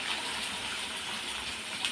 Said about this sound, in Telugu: ఇప్పుడు వేస్తాను చూడండి వాటర్ అయితే.